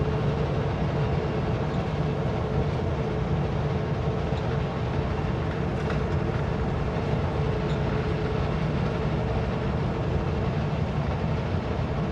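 A steady, continuous rumble of a train rolling along the rails, loud and unbroken throughout, with no talking.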